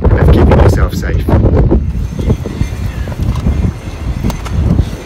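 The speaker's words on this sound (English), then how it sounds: "we've come out to a very windy Port Seaton harbour" Strong wind buffets the microphone with a heavy, continuous roar at a very windy Port Seaton harbour, loud and steady with gusting surges throughout.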